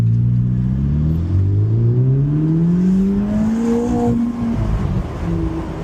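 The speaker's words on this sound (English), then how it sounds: "That V8 with those twin turbos spooling up." A 2025 Ferrari Roma Spider's twin-turbo V8 accelerates hard on the road, its engine note climbing steadily and loudly through the revs before easing off, close and prominent.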